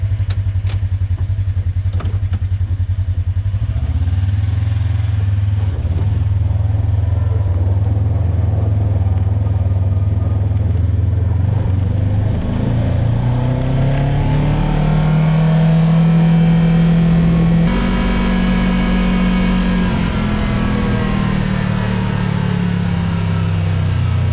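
A Kawasaki KRX X3 side-by-side buggy driven around a neighborhood, its engine loud and close, droning steadily then revving up and shifting pitch as it accelerates, with some clatter.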